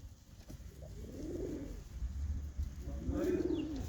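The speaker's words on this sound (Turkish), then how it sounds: "Dayımın kerkük kuşları." Kerkuk pigeons coo softly nearby in two low, rolling phrases, with a faint background hum and no talking.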